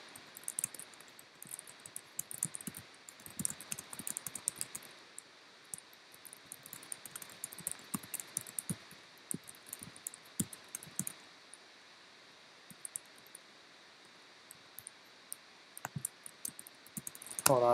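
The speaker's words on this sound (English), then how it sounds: "I'm just typing real quick." Quick bursts of computer keyboard typing, with scattered soft key clicks and short pauses, heard close and fairly quiet against a faint steady hiss.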